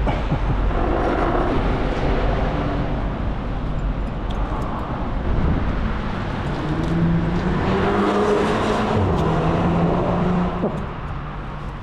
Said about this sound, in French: Une moto.